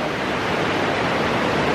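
A jungle river runs beside a campsite, giving a steady, even rush of flowing water that stays close and constant with no voices over it.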